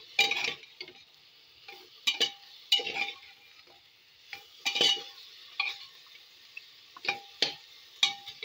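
Mutton leg pieces fry in a pot with crushed ginger and garlic while being stirred, producing repeated scraping, clattering strokes over a soft sizzle at a steady, uneven rhythm.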